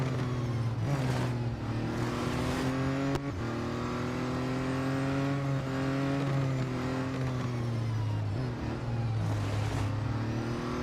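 Race cars in Real Racing 3 on the Le Mans circuit drone steadily with shifting engine pitch as they race, a continuous loud engine roar with occasional gear changes and no talking.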